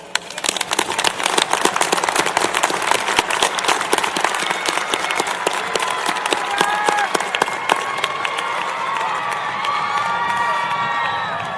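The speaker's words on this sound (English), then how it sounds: "let's give them a huge round of applause" A large graduation audience at the Air Force Academy applauds loudly and continuously, dense clapping mixed with cheers and whoops that carries on for the full stretch, with no speech.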